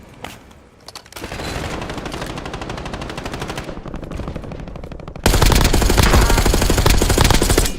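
Rapid automatic gunfire from a video game, sustained and loud across the whole stretch with a brief lull at the start and a louder, denser burst near the end as magazines are switched.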